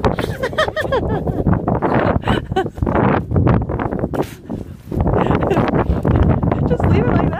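Gusty wind outdoors in Ireland buffets the microphone in rough, rumbling bursts that rise and fall, mixed with people talking.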